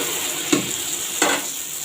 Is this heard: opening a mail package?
no